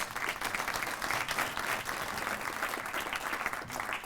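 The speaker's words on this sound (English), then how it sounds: "I think you can give yourself a round of applause" An audience at a university awards ceremony for teaching and research applauds, a steady wash of many hands clapping at a moderate, somewhat distant level.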